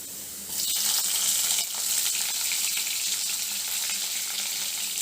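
Chopped onions dropped into a pan of browning baby potatoes, a sudden loud burst of hissing sizzle that stays strong and steady afterward, close up with nobody speaking.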